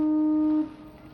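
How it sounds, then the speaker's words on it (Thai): A ship's horn on a boat in a Norwegian National Day harbour parade near Tromsø blasts one long, loud, steady tone for about half a second, then cuts off, leaving lower ambient noise. "เสียงเปิดปูดแล้วเรือเปิดปูดแล้วค่ะ"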